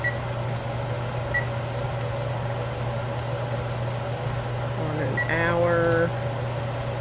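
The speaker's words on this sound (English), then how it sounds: "And I will set this timer" A kitchen timer, set while canning wild turkey and chicken, gives a short cluster of clear electronic beeps near the end, over a steady appliance hum and fan-like background noise.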